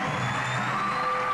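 A crowd at a wrestling show in IBEW Hall roars and cheers, a continuous wash of shouts and whoops filling the room without letting up.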